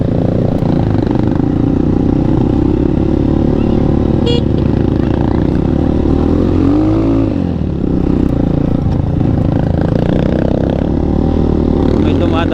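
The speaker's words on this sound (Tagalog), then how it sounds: "lakas ng motor nila kuya oh, yung kolong kolong nila" A kolong-kolong motorcycle with sidecar labours along a muddy riverbed trail after a typhoon, its engine droning loud and steady throughout, with a brief horn-like tone and people talking over it.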